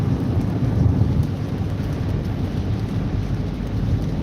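Heavy rain drums on a car as it drives through a thunderstorm on wet roads, a dense low rumble of thunder and downpour filling the cabin, steady and loud with no voices.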